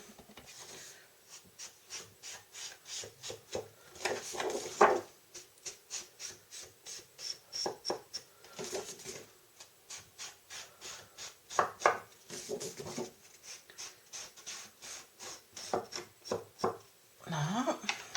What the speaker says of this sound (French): On arrondit les bouts et on encre les bords avec la couleur